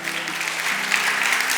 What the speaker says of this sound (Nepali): ताली बजाएर प्रभुलाई धन्यवाद दिनुहोस् न